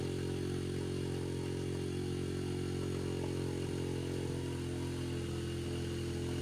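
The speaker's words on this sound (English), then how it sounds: "I turned that gas off a while ago and it's still running on what's in there." A Yamaha TTR50 engine idles steadily on the last fuel left in its carburetor after the gas is turned off, a close, continuous low putter with no voices.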